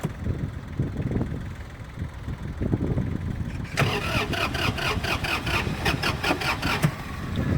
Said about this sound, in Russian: Ну, давайте запустим трактор.